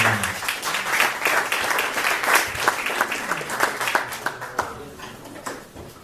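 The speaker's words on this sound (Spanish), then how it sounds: "Un aplauso." A crowd applauds steadily at an education conference in Venezuela, with dense clapping that holds strong and then gradually thins out toward the end.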